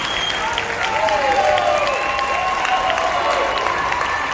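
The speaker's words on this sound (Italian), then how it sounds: "qui ci vuole un applauso. Magari più forte." Circus audience applauding under a big top, a steady wash of clapping with a voice and tonal sounds running over it throughout.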